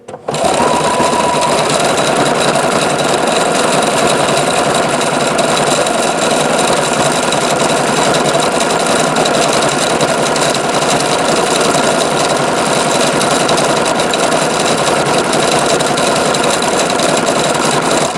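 A Juki HZL-F300 or Singer XL-550 sewing machine stitching with metallic thread, a loud, steady, rapid mechanical whirr and needle chatter running continuously at close range without pause.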